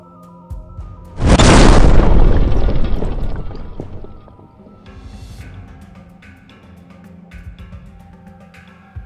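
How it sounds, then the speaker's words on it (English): A timed explosive carried by a soldier detonates in a heavy boom lasting a couple of seconds, then rumbles and fades out into distant crackling and debris. No voices are heard. "Shortly after, a timed explosive he was carrying detonated."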